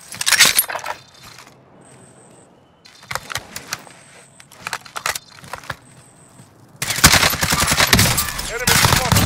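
Rapid bursts of automatic gunfire from a battle royale shooter in a duos match, crackling loudly in short volleys separated by brief pauses, then a sustained, dense barrage of shots toward the end.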